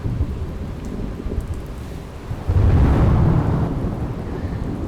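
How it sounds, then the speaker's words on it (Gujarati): Heavy monsoon downpour with thunder over the College Road area in Gujarat: a steady roar of rain swells sharply midway as a deep, loud thunder rumble rolls in and lingers, with no voices. "કોલેજ રોડ સહિતના વિસ્તારમાં પણ ધોધમાર વરસાદ"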